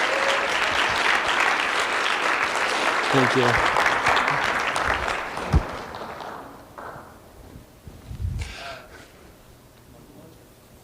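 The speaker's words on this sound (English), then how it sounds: "Let's give another round of applause for Wade." Loud audience applause at a mental health week event, sustained clapping for about six seconds that fades out, followed by a brief spoken thank-you and some shuffling.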